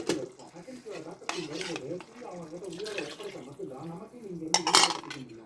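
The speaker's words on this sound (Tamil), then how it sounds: "நல்லா கிண்டி விட்டுக்குவோம்." A pot of fish curry with freshly poured coconut milk is stirred with a metal spoon, soft scraping and occasional clinks of the utensil against the pot, while a person talks over it throughout.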